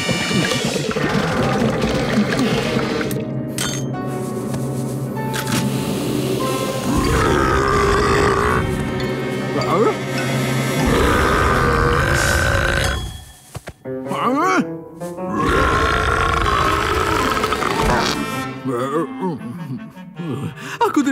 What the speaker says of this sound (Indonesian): Sendawa itu seharusnya membuat rumahnya menjadi uap bau.